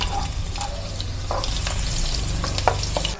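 Onion and garlic sautéing in a pan for pancit bihon, a continuous close sizzle with scraping stirs and a few sharp utensil clicks.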